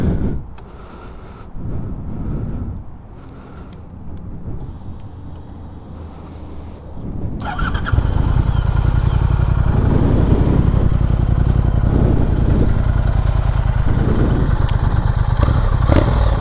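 A 2020 Triumph Speed Twin 1200 cc motorcycle engine idles unevenly with clatter, then fires up into a loud, steady roar with revving pulses, close by and continuous.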